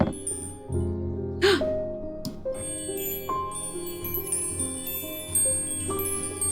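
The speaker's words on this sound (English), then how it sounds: "It chimes!" Chime from the Strange Horticulture video game: a bright struck tone with ringing bell-like overtones rises over soft layered game music, alongside a brief breathy swish and several later tinkling notes.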